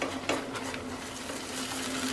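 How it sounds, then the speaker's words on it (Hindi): White paste sautéed in a pan over a low flame for malai kofta, stirred continuously, with soft scraping and a faint steady sizzle close by, alone without talk. "पेस्ट को कंटिन्यू चला के सौते करना है।"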